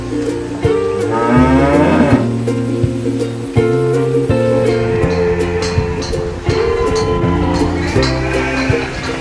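Cattle at Sedana Farm, a small cattle farm, moo in loud, drawn-out calls that repeat steadily across the whole stretch, with no talk over them.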